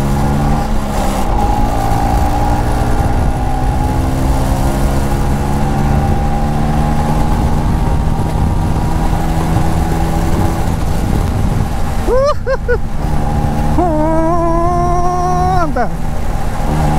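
A 1985 Bajaj Chetak scooter engine runs steadily at idle, a loud, close, even drone with no silence through the clip. Near the end it briefly picks up and wavers, and a voice may be heard faintly underneath.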